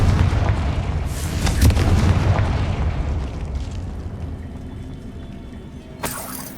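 Fire spell explosions in the video game Hogwarts Legacy, a few loud booming bursts in quick succession that decay into a rumbling tail, followed later by a sharp burst.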